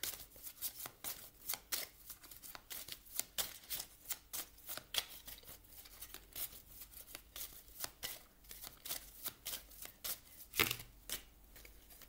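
Tarot cards shuffled by hand in a long run of quick riffling and tapping bursts, uneven in rhythm and fairly soft, with no voice over them.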